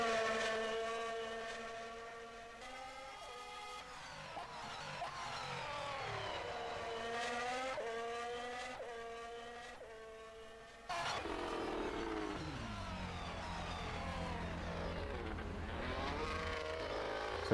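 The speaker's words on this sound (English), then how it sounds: "So the car's now coming back into pit lane, getting ready for the race." Engine of an F1 car in the rFactor 2 racing game at the Bahrain Grand Prix, whining through repeated rises and falls in pitch, then abruptly louder with a lower drone, continuous and alone.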